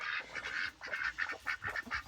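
Ducks being herded in a row, giving a rapid run of close, loud honking quacks with short gaps between calls, no talk over them.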